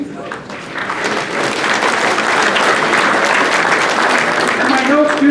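Audience applause at a ceremony honoring judges, a dense, steady burst of clapping from a large crowd that carries on throughout.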